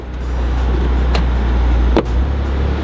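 Subaru WRX STI car engine accelerating with a steady low rumble throughout, a couple of brief mechanical clicks over the sustained drone, heard up close from inside the car.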